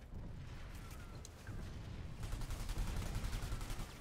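Gunfire in the online shooter PlanetSide 2, a rapid string of fairly faint, distant shots that grows denser and louder toward the end, with no voices.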